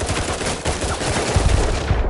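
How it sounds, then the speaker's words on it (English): Rapid bursts of automatic gunfire from a PS4 shooter game, dense and loud, rattling continuously through the moment with heavier thumps toward the end. "Oh, what are they shooting me for?"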